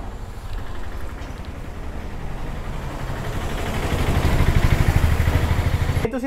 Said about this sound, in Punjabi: ਅਸੀਂ ਇੰਜਣ ਦੀ ਆਵਾਜ਼ ਕੱਢ ਕੇ ਐਗਜ਼ੋਸਟ ਵੱਡਾ ਲਾ ਦਈਦਾ